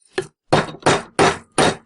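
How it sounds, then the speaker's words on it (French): A hammer strikes a pin punch to drive out an old oil seal from a Renault 4L differential, five sharp metallic blows in a steady rhythm, close and loud with silence between. "On va l'extraire juste en tapant quelques coups avec un chasse-goupille dans les deux trous qui sont là."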